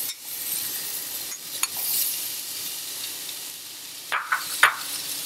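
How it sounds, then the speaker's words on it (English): Flour browning in butter with corn, stirred in a pan: a steady, moderately loud sizzle runs throughout, with a few sharp scraping clinks of a utensil near the end. "While the wheat is cooking in the butter, at the same time we can just add the corn."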